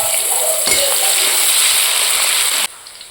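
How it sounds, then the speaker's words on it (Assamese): Chopped onions frying in a pan for a chickpea ghugni curry, giving a steady close sizzle and hiss that cuts off near the end into quieter background. "পিঁয়াজখিনি ধুনীয়াকৈ ভজা হৈ গ'ল।"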